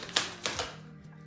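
Tarot cards being shuffled by hand, a few quick papery riffles and snaps in a short burst, close and moderately loud, with no talking.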